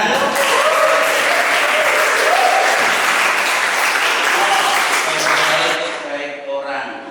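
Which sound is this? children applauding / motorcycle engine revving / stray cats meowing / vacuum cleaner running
children applauding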